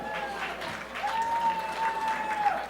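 Audience at a women in business awards ceremony applauding steadily, with a sustained tone running through the middle while a presenter talks over the clapping.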